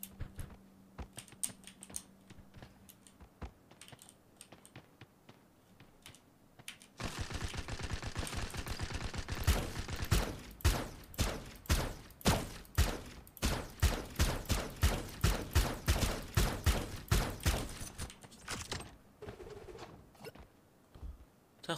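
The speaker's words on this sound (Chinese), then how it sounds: "后面还有枪声呢。" Gunfire in the battle royale game Sausage Man, quiet at first, then a dense run of rapid automatic bursts, loud and repeated for about ten seconds before fading.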